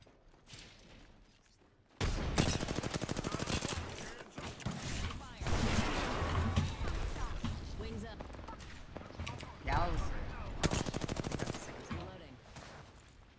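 Automatic weapon fire in a shooter video game, loud rapid bursts that come in three long volleys separated by short pauses, with faint voice chatter in the quieter gaps.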